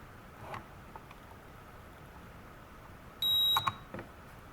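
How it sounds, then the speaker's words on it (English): A single short electronic beep from a KAI ONE Pro drone controller, fairly faint, over a soft background hiss, followed by a couple of quiet clicks. "The next one will make the drone actually beep, or the controller beep."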